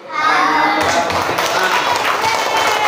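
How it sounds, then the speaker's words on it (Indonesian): A fourth-grade class of children claps for a classmate, a dense continuous patter of hands that swells in after a short pause and keeps going, mixed with children's voices. "Kita tepuk tangan untuk Rai."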